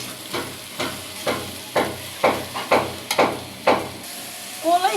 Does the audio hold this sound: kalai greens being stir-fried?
yes